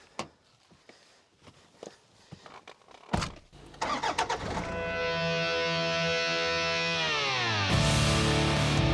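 A car starts up and its engine settles into a steady running drone that carries on to the end, on a morning drive toward Redcliffe north of Brisbane along the M1, with a brighter burst near the close.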